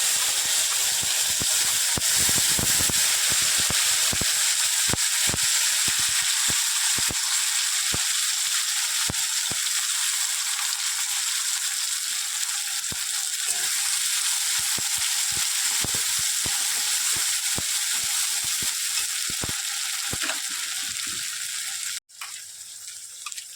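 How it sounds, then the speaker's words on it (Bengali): Spices frying in a pan for a Bengali folui fish curry, a steady hissing sizzle with scattered clicks and scrapes of stirring, ending with a brief sharp knock. "এবার মশলা দিয়ে দেবো। মশলা দিয়ে ভালো করে কষিয়ে নেব।"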